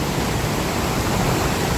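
Haew Suwat waterfall in Khao Yai National Park gives a steady, dense broadband rush of falling water, constant and enveloping, with no voices.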